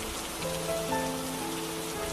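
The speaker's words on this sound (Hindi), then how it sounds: "सुबह से कैसी भयानक बारिश हो रही है।" Heavy rain pours steadily onto a surface in a dense, even hiss, loud and continuous with faint tonal hum underneath.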